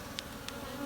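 Bees buzzing around beehive nucs, a dense steady drone close by with a couple of brief louder passes of individual bees.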